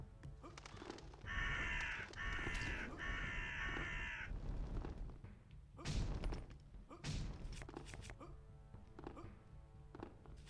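Crows caw in the video game UnEpic, a run of harsh, repeated calls in the first half, followed by heavy thuds and scattered game noises.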